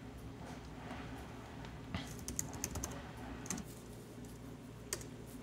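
Someone types on a computer keyboard while coding an Arduino MIDI controller, soft scattered keystroke clicks in short bursts over a quiet room hum.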